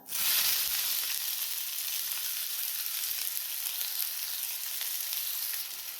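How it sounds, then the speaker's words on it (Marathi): Chopped onion hits hot oil with cumin seeds, giving a loud, steady sizzle that bursts up at once and holds evenly, close and with no voices over it. "कांदा आपल्याला छान असा भाजून घ्यायचा आहे"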